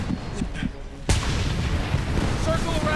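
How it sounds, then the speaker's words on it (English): Cannon fire in the 2011 shooter Homefront, a sudden loud boom about a second in, followed by a dense rumbling wash of gunfire and battle noise with voices mixed in. "The cannon's tearing you apart!"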